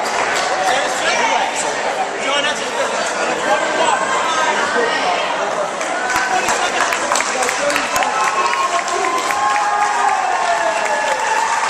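A high-school gym crowd at a boys' basketball championship game cheers and applauds steadily as a fouled-out player leaves the court, with chatter and scattered shouts through a continuous, loud roar.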